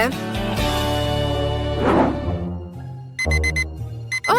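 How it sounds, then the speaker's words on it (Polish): A bright alarm clock ring bursts in near the end after a stretch of music, ringing loudly in short repeated pulses. "O, to budzik?"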